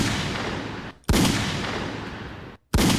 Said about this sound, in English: Let me add a gunfire to it.